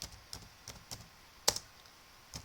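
Typing on a computer keyboard: a handful of sparse, separate key clicks at an uneven pace, quiet and close, with one sharper louder tap midway and no voices.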